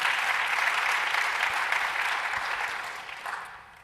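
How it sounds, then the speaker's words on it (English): An audience applauds at a fintech developer conference panel in a dense burst of clapping that gradually fades over a few seconds. "let's give a round of applause"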